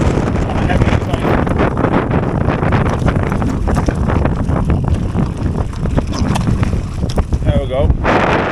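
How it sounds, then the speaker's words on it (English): Strong gusting wind roars over the microphone as a heavy mountain bike rolls along a trail centre track, a loud, constant buffeting rush filling the whole stretch with no clear voices. "Wind, man, it's catching me, even my size"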